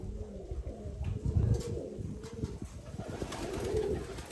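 Young pigeons cooing softly at close range, a few low murmuring coos over faint background noise.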